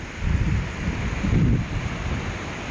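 A rain-swollen river rushes powerfully nearby as a steady, loud broadband roar with low rumbling surges, partly buffeted by wind on the microphone, and no voices.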